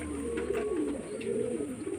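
Low, rolling coos from old-line Madras pigeons at home carry on steadily and close, soft and unaccompanied by talk.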